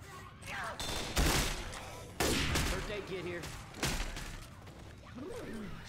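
Video game gunfire in Left 4 Dead 2, with bursts of loud shots and crashing impacts in a rapid fusillade. Voices talk over the shooting.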